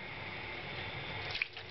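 Boiling water from a kettle pours over a car thermostat sitting in a sink, a soft continuous trickle and splash with a brief brighter spatter near the end, quiet and close.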